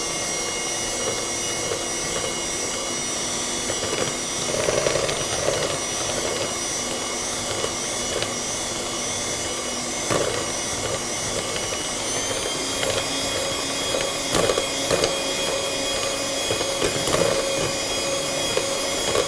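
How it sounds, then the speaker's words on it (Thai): An electric mixer whips non-dairy whipped cream for a Hokkaido bunny cake roll, giving a steady, dense whirring drone that runs unbroken and fairly loud throughout, with no talking. "ก็ตีวิปครีมก่อนเลย"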